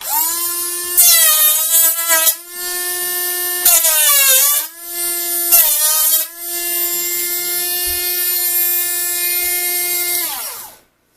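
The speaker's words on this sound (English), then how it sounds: "this thing will just eat up anything you put at it" A small battery power bank juicer blender with a 3.7-volt motor shreds a piece of cardboard, its high whine rising and dipping in several loud bursts, then running steady before cutting off.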